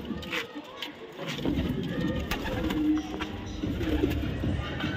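Pigeons, including a young bird, coo in a loft with soft low repeated calls. Someone talks over them throughout.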